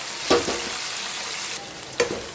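Large potatoes sizzle loudly in a hot pan over a full gas flame, with a steady frying hiss and two distinct stirring scrapes, the first near the start and the second near the end.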